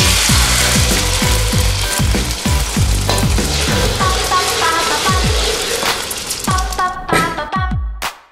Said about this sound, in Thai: ไข่เจียวร้อนๆได้แล้วจ้ะ